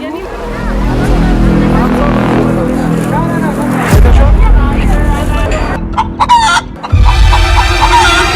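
A hen clucks repeatedly and a rooster crows nearby, with people talking over the birds and some engine rumble in the background.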